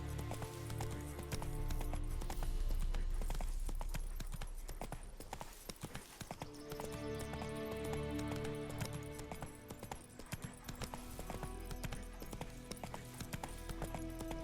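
Roach, the horse in The Witcher 3, gallops with steady, rhythmic hoofbeats under a continuous layer of in-game music.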